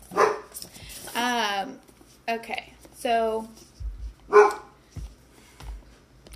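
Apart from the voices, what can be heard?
dog barking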